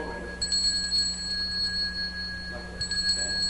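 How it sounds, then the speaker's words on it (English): A single small altar bell at a Latin Mass rings gently twice, its clear tone sustained and fading, with no talking. "With a single bell, it's sufficient to just do a little gentle ring."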